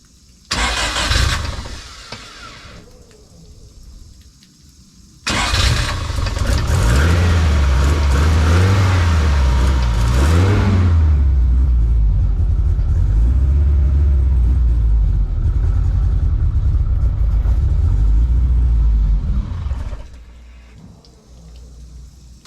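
A turbocharged Toyota 3S-GTE car engine cranks briefly, then starts and runs with a loud steady rumble, revving slightly before idling down and cutting out.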